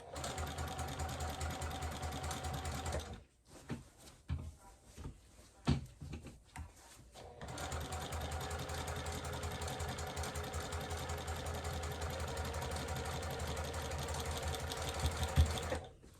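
A domestic sewing machine with a large throat space runs steadily while quilting straight lines on a first quilt, a loud continuous motor hum broken by a few seconds of stops and short bursts before resuming for a long, even stretch.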